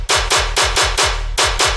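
Dubstep tear-out gun bass with an added transient layer sounds as a quick, steady volley of loud, sharp-attacked bass shots, each with a sliding low growl beneath a bright burst, interrupted by one short gap, and there is no speech.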